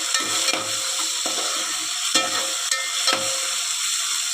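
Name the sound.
frying ginger garlic paste in oil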